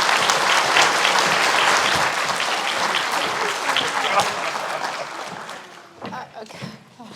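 An audience at a college continuing education achievement ceremony applauds for the college president, a full burst of clapping that gradually thins and fades, with voices emerging near the end.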